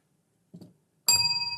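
A short soft knock followed by a bright bell ding that rings out with a clear sustained tone and slowly decaying shimmer.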